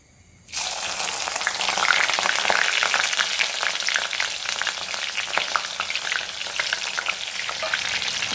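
Mutton masala pieces sizzle loudly in a hot pan after a brief quiet start, with a continuous crackling fry and irregular scraping of stirring, close up and with no talk.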